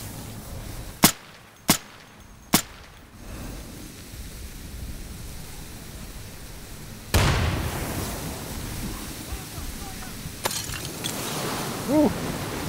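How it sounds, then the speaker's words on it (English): An incendiary grenade goes off in the shooter game Insurgency. Three sharp gunshot-like cracks come first, then a loud whooshing burst of fire that keeps roaring and hissing. A brief voice comes in near the end. "I'm using incendiary!"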